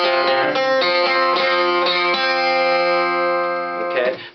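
Acoustic guitar plays a bar, two strings plucked together with an open first string, ringing notes in a steady picked rhythm, close and clear with no talking.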